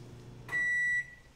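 A Danby microwave oven gives a single clear electronic beep lasting about half a second when it finishes heating water, loud and alone over a low kitchen hum.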